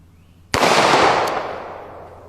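A single loud CZ-75 semi-automatic pistol shot fired outdoors at steel plates, a sharp crack followed by a long, slowly fading echo, with a faint metallic tick shortly after.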